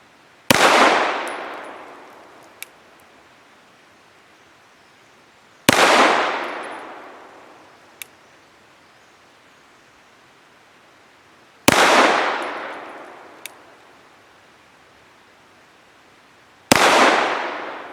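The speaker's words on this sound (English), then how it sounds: "Now for 5 shots from 7 yards with the SP1 using Nosler 115 grain match ammunition." Tisas Regent SP1 pistol firing Nosler 115 grain match ammunition at 7 yards: four loud, sharp reports spaced about five to six seconds apart, each with a long, fading ring. Small metallic clicks fall between the shots.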